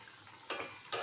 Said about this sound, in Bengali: হালকা একটু নাড়াচাড়া করব